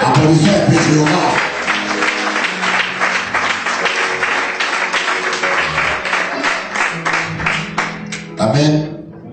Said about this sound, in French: Applaudissez un peu Jéhovah.